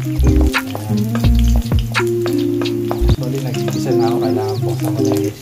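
Garlic sizzling loudly in hot oil while being stirred, a close continuous crackling fry with scraping stirs, and a voice talking over it.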